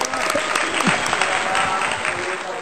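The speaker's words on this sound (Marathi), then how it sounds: "जोरदार टाळ्या तुझ्यासाठी एकदा" Loud, dense applause from an audience at a televised event, continuous clapping close and full throughout, with faint voices underneath.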